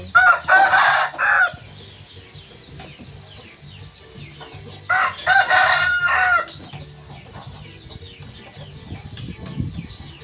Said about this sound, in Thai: เฮียหนุ่มให้อาหารไก่